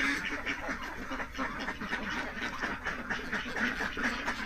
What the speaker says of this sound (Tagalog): Yung itik na to, chop suey.